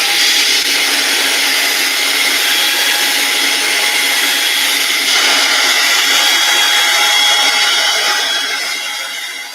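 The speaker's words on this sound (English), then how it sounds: "this is a hairdryer, not a heat gun" A hairdryer on a cool setting blows continuously and loudly up close, drying a craft project, its steady rushing whir holding throughout with no talking.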